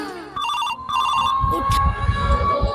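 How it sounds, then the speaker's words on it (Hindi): An office phone rings with a repeating electronic bell tone, loud and close, as rumbling handling noise and movement build up underneath in the second half. "उठाइए ना, ऑफिस से फोन आ रहा है"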